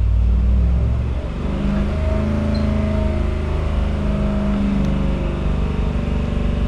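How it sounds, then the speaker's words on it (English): A Holden 308 V8 with a Quadrajet carburetor roars steadily on a dyno, loud and close, its deep engine drone and induction noise holding at high revs with a brief dip early on. "But listen to that quadrajet. Induction noise."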